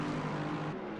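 A Lexus race car engine in a racing video game roars steadily past, a loud, continuous high-revving drone with no pause.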